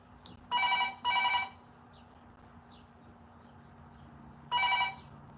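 A telephone rings in short double bursts, two trills in quick succession and then a third after a pause, fairly clear against a quiet room hum.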